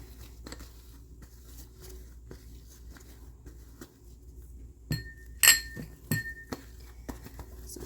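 Small glass jars clink together while they are cleaned out for candle making. There are a few sparse, sharp chinks, with one bright clink standing out against a quiet room.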